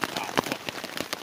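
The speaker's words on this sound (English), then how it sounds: "even though it's raining pretty hard" Rain falls hard on a riverside campsite on a canoe trip, a dense, close patter of drops with sharp irregular taps across a short burst.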